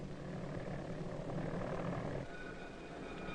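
A mail-carrying airplane's engine drones steadily and loudly throughout, a continuous broadband roar with no talk over it, in an old 1956 post office film.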